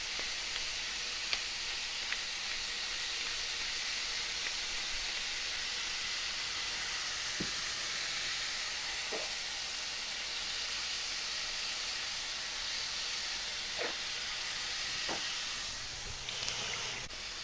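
Sirloin beef tips seasoned with salt and pepper browning in a hot pan, giving a steady, even sizzle and hiss that carries on without a break and with no voices.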